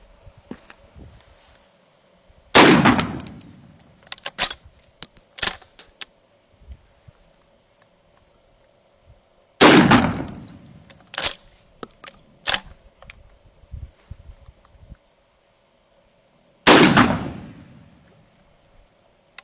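A shotgun fires exotic ammunition rounds at cloth bag targets set at 5, 10 and 20 yards outdoors. Three loud, sharp blasts with ringing tails sit several seconds apart, with small clicks and clatter between them and no talking.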